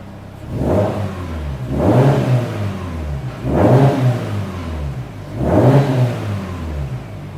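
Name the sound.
car engine revving, Woolman 2.5L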